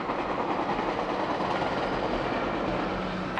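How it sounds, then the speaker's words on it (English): Train clattering past an East End affordable seniors building in Toronto, a continuous loud rumble with rhythmic wheel clacks throughout, no voices. "trains clatter by this East End Affordable Seniors building"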